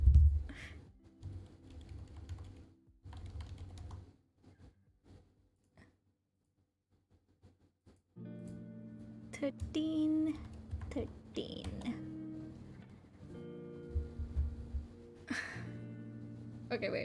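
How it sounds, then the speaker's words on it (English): Keys clack on a computer keyboard during a VTuber livestream, with bursts of quick tapping mixed among a person talking and steady background music. "But I already started typing."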